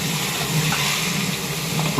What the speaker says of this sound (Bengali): মাথাগুলো ভেজে নেবো